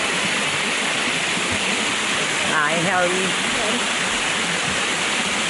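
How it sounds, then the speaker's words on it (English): A waterfall at Rainbow Springs near Ocala, Florida pours in a loud, constant hiss that fills the whole stretch, while a person briefly speaks a greeting over it. "I hope y'all can hear me over the sound of this beautiful waterfall"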